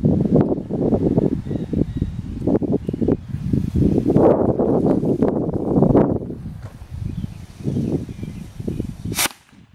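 Wind blows steadily outdoors during a Fourth of July outing, a loud, rough gusting rumble buffeting the microphone for most of the stretch before easing near the end.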